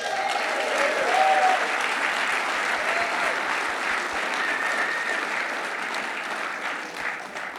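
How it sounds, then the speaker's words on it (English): An audience applauds steadily for several seconds, a dense, even wash of clapping that tapers slightly at the end. "we'll do some rounds of applause because these guys are awesome"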